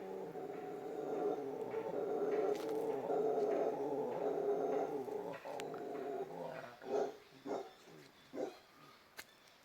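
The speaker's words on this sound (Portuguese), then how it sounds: "ao som do guariba, o macaco guariba." Howler monkeys roar from the trees, a deep sustained rumbling chorus that carries steadily, then breaks into rhythmic pulsing grunts toward the end, with no talking.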